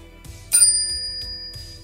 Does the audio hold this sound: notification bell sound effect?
yes